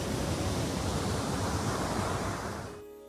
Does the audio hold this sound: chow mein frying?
no